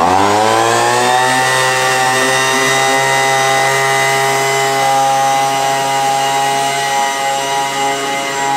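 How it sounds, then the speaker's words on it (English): A leaf blower, used to power a flying RC airplane drone, runs loud and steady with a high whining engine drone that holds nearly constant pitch, close and alone. "we picked out a leaf blower"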